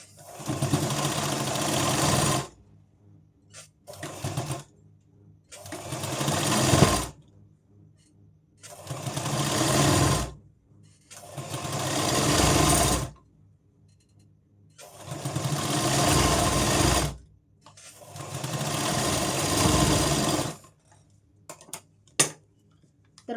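An electric sewing machine stitches a blouse seam in repeated runs of rapid, steady whirring, each burst lasting a few seconds and separated by short pauses with faint handling clicks.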